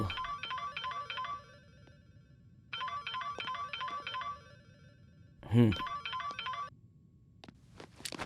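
An electronic phone ringtone plays in two repeating bursts of chirpy tones, with a short gap between them, followed by a brief thump and rustling.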